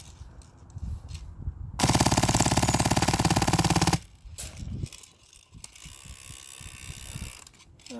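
A Krytac LMG Fusion airsoft gun fires a rapid full-auto burst of about two seconds, a dense mechanical rattling that stops abruptly, followed by outdoor clatter and handling noises.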